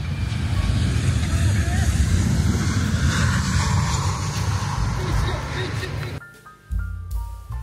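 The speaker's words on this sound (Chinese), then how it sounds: "哇，飞机下来了" An airplane coming in to land near the coast of Miyako Island roars loudly and steadily overhead, then the engine noise drops away abruptly, leaving quieter background sound and faint voices.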